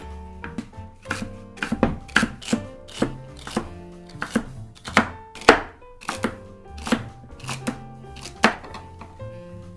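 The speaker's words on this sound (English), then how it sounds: "chopping up our celery and garlic" A knife chops celery and garlic on a cutting board in quick, uneven strokes, crisp close knocks repeating steadily with no talking.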